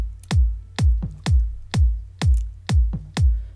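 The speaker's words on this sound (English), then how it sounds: "solo the kick. And the kick sounds like this." A soloed electronic kick drum loops in a steady four-on-the-floor pattern, seven punchy, booming hits with deep low-end decay, evenly spaced, with a faint extra kick tucked between some beats; loud and alone.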